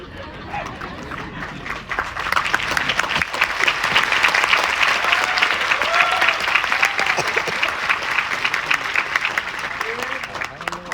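A theatre audience applauding at a Marathi stage play: dense, sustained clapping swells after a couple of seconds and stays loud and steady, with voices mixed into the crowd noise.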